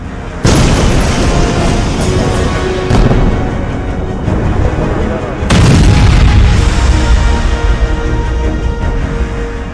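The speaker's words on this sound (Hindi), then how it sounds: "इजरायली सेना का धमाका" An Israeli airstrike in Dahieh, Beirut: a loud explosion booms, then a second heavy blast follows a few seconds later, each leaving a long rumbling roar.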